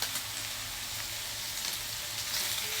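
Pork sizzling in a pan as tomato sauce goes in, a dense continuous hiss and crackle heard close up.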